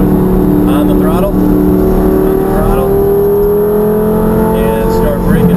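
Lamborghini engine building revs on a track, a steady rising whine and rumble that climbs in pitch across the span, with a person talking over it throughout.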